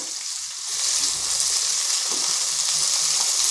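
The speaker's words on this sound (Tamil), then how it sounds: "இப்போ கொஞ்சம் தக்காளி போட்டு இதை கொஞ்சம் வதக்கிக்கலாம்." Chopped tomatoes sauté in hot oil with a loud, continuous close-up sizzle that swells slightly as they settle, with faint stirring and no talking.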